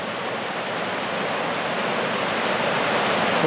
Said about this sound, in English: what a pretty waterfall